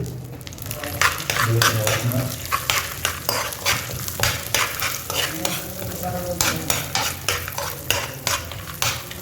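Continuous sizzling from a hot pan with frequent spatula scrapes and stirring clatter, close up, with no talking.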